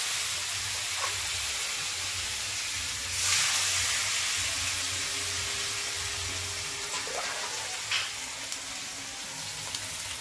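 Water hits a hot pan of fried spices for a rohu fish curry, setting off a bright hissing surge that settles into steady, fairly quiet bubbling and sizzling, with faint clinks and no talk.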